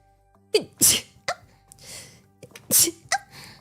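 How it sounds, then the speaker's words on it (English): Two sharp sneezes, close and loud, about two seconds apart, each a quick intake followed by a bright burst, with small breathy sounds between. "I sneezed."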